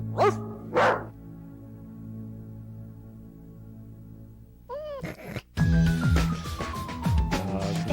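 A dog barks a couple of times at the start, then after a quiet stretch a burst of loud yowling animal sounds and clatter follows, with a falling whistle-like tone near the end.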